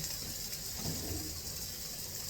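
Steaks and garlic sear in a hot pan, giving a steady broadband sizzle and hiss at moderate level without pause. No one speaks over it.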